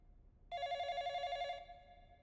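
A telephone bell rings once in a single sustained burst of about a second, fairly clear against a quiet room with no talking.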